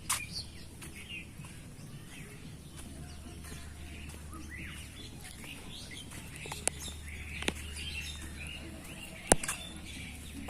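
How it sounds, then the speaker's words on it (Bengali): Faint birds call and chirp in a quiet village setting in Gazipur, Bangladesh, with a low steady hum beneath and a few brief clicks. "শুধু পাখির ডাক ব্যতীত অন্য কোনো শব্দ এই মুহূর্তে পাওয়া যাচ্ছে না"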